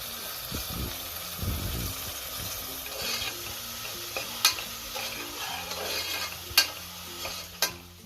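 Ginger-garlic paste sizzles steadily in a pan while a spoon stirs and scrapes, with a few sharp clinks of metal against the pan.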